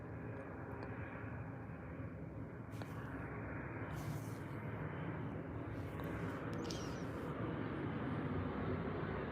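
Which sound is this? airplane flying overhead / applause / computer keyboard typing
airplane flying overhead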